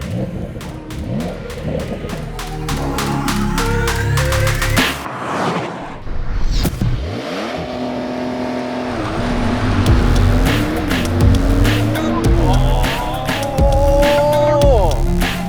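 Powerful car engines roar and rev up in a drag race between a Kia EV6 GT, a Tesla and a Porsche, rising in pitch through the gears, with a brief squeal of tires and a loud surge of acceleration.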